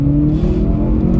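A 2016 Hyundai Veloster Turbo pulling away under acceleration, a low, steady engine drone heard from inside the cabin, loud and brief, without talk.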